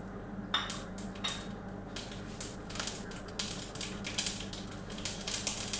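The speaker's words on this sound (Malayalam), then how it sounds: "കടുക് പൊട്ടാൻ തുടങ്ങി." Mustard seeds crackle and pop in hot oil while a Kottayam-style chakka erissery is being made, a steady scatter of sharp, close little bursts over a low hiss.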